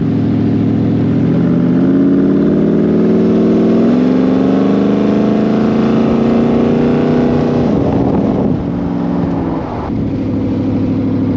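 A Ford hot rod built as a full-size version of a toy car, weighing about 860 kilos and running a 279 diff, its engine accelerating in a loud, steady rising roar that shifts pitch partway through.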